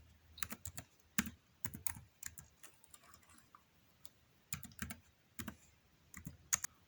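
Typing on a computer keyboard in a quiet room, with quick bursts of sharp, close keystroke clicks separated by short pauses and no voices.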